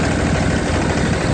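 Steady, loud low rumble of a river trawler's engine idling on the Meghna, continuous and close with no speech over it.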